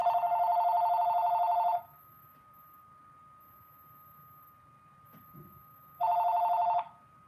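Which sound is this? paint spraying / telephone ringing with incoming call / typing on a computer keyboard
telephone ringing with incoming call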